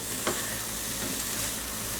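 Garlic cauliflower with thyme is stirred in a pan, producing a constant close sizzle and frying hiss with soft scraping of a spoon and a single sharper knock early on.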